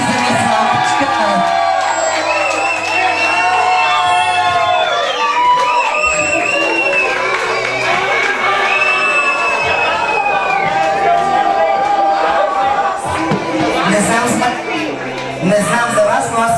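A pageant audience cheers, whoops and shouts for a contestant at a drag beauty contest, a loud lively crowd roar with overlapping voices and a host talking over it.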